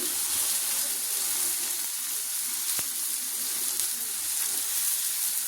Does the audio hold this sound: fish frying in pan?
yes